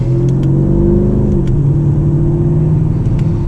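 A Mercedes-AMG car with the supercharged M113k V8 engine revs up and holds a loud, close, rumbling drone, pitch rising then settling, with no talking.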